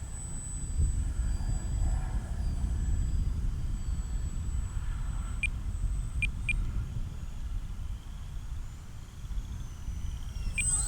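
A small radio-controlled model airplane engine whines steadily in the distance as it comes in to land, over constant low wind rumble and outdoor noise, with a few faint sharp clicks.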